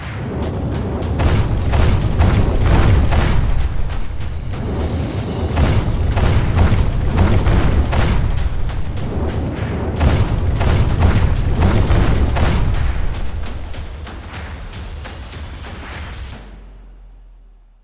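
Weapons fire and explosions in a battle from an animated series: dense, loud booming blasts and rumbling impacts pound continuously for over fifteen seconds before cutting off.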